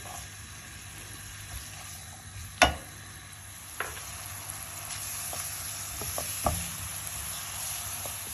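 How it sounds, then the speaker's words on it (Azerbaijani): Red onions frying in melted fat in a pan for beef fajitas, a steady soft sizzle with a few sharp knocks and stirring clatters, one louder clack early on. "Yağımız əriyib, biz bura soğanımızı əlavə edirik."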